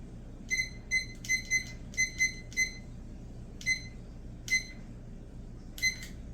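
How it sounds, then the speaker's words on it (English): A kitchen timer beeps in short clusters of two or three, then single beeps, faint and clear over a low room hum, with no talk. "We have our timer."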